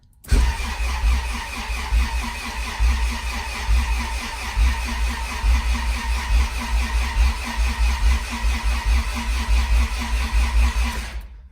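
A B16A3 car engine cranks over continuously to prime the oil pump, in an even, pulsing rhythm for about ten seconds, loud and close, with no voices.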